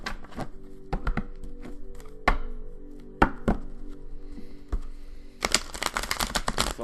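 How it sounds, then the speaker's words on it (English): A deck of tarot cards being shuffled, a run of sharp, close clicks and taps at an uneven pace, ending in a dense, rapid riffle burst. "Let's get a shuffling real quick."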